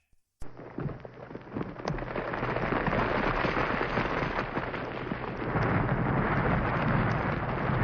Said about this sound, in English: The retaining wall collapsed. Not slowly, but instantly.